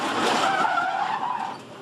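Supercars race car skidding wide through loose marbles toward the outside wall, a loud sustained tire squeal and engine roar that hold for over a second, then fade slightly.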